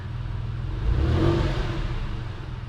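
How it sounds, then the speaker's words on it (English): Porsche engine running in a rich-running state, a low rumbling drone that swells louder midway through as it revs briefly, then settles back to a steady idle-like hum, no voices. "So yeah, the car's running absolutely great."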